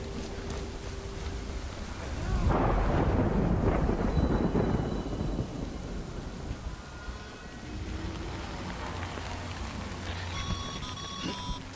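Steady rain and a rolling thunder crash in the video game Death Stranding, a heavy rumble swelling near the start and easing into a constant rainfall wash, with faint electronic tones and possible low voices underneath.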